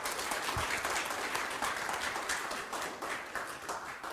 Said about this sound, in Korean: 다시 한번 큰 박수를 교수님께 드리면 좋겠습니다.